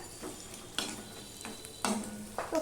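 Fish roe fries in a pan with salt, turmeric, garlic, onion and chilli, its quiet sizzle broken by three or four distinct scraping strokes of a spatula stirring against the pan, close up with no speech.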